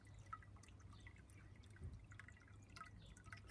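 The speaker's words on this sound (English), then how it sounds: "You just have the little trickle of the water" A small garden water feature trickles in a shaded corner, with soft, steady dripping and light splashing that runs continuously at a low, gentle level.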